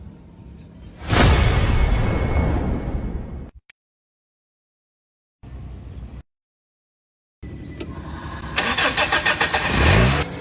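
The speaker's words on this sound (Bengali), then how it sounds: "এই দেখ এই যে ইঞ্জিলটা আমি স্টার্ট দিবি" A car engine cranks and catches, running loud and steady for a few seconds before cutting out twice, then starting again and revving up near at hand with no voices over it.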